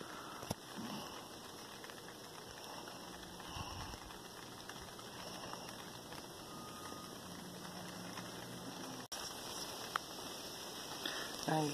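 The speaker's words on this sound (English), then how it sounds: "See, it's raining, wind blowing." Steady wind-blown rain patters on a surface in a broad, even wash, heard through open screen doors in Augusta, Georgia, with a faint low rumble underneath and a brief sharp knock partway through.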